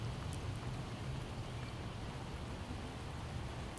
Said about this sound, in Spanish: ahora se pone a llover